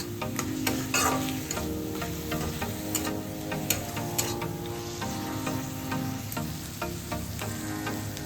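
Spice paste for katla fish curry frying in a pan, a steady dense sizzle with scraping stir strokes and occasional clicks of the spoon, continuous and close throughout.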